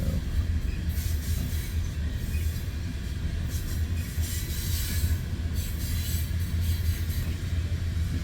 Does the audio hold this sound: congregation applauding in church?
no